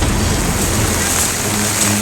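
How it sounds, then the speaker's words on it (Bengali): Heavy rain falls in a forest as a dense, continuous roar of broadband hiss, loud and close, holding steady without any clear pause. "প্রচুর বৃষ্টি হচ্ছে"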